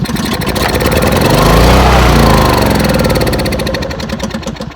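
A free secondhand Husky portable generator's small engine fires and runs, a loud, close, rough throbbing putter that swells and settles into a steady chugging idle.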